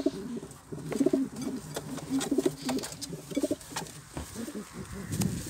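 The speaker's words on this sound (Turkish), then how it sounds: "Adana kuşlarımız şurada." Adana pigeons coo repeatedly in soft, rhythmic bursts nearby, with other birds calling in the background amid light outdoor ambience.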